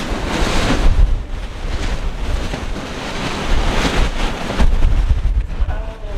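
Strong gusty wind blows outdoors, a loud roaring rush with heavy buffeting against the microphone that swells and eases in waves, with no voices.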